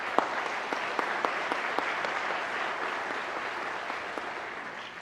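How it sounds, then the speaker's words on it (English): Audience at a police recruit class graduation applauding, steady crowd clapping with a few distinct sharp claps standing out near the front, holding evenly for several seconds. "Would you please give them and leadership a round of applause as well?"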